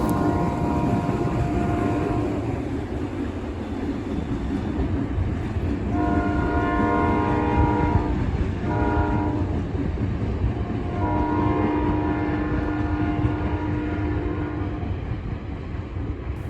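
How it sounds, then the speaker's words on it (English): Former Canadian Pacific SD40-2 diesel locomotive leading a train past a street crossing, a continuous heavy rumble with repeated loud horn blasts sounding close by. "as we see the locomotive now passing Main Street"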